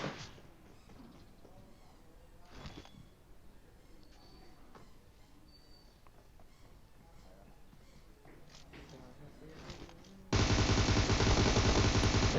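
Loud, continuous burst of rapid gunfire in PUBG Mobile erupts near the end, after a stretch of quieter game sounds and scattered shots.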